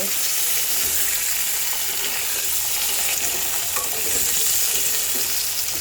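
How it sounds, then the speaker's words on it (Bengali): Potatoes and yardlong beans fry in a pan, a loud continuous sizzle with scraping stirring sounds and occasional spits throughout. "একটু ভাজা ভাজা করব"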